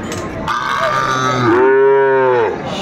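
A Sahiwal bull calf at a cattle market gives one long, close, drawn-out low moo that rises and falls, heard clearly on its own with no talk.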